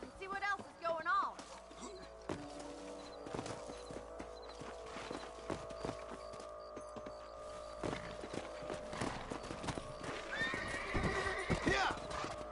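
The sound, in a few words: horses galloping and neighing in video game Red Dead Redemption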